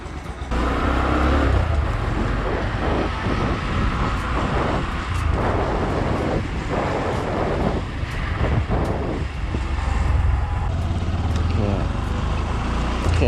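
An older-model motorcycle with its stock headlight, ridden along a road at night, makes a continuous engine drone buffeted by heavy wind rush throughout, with no talking.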